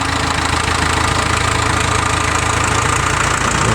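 A used Ford tractor engine runs during a test drive in Nakhon Ratchasima: a loud, steady, rumbling drone with a rapid knocking pulse, close by and continuous throughout.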